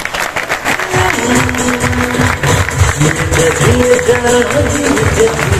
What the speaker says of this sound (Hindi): इसका इनके लिए जबरदस्त ताली बजाएं